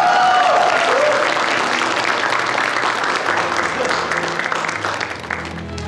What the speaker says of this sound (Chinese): 大家伙掌声鼓励一下